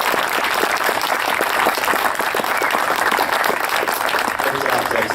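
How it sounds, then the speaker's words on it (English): A crowd at a railroad locomotive dedication ceremony applauds loudly and steadily, dense clapping sustained throughout with no pause, close and full. "Let's have a big round of applause."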